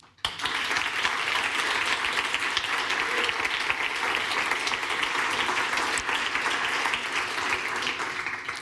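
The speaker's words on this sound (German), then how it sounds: "Wir begrüßen Sie und euch mal mit einem großen Applaus." Sustained audience applause fills the hall at a science communication award ceremony in Mannheim, a dense, steady wash of many hands clapping from start to finish with no talk.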